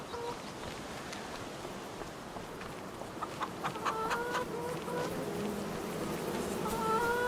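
Chickens cluck and chatter in a farm setting in Farming Simulator 25, a series of short repeated clucks over a steady buzzing background, growing slightly louder toward the end.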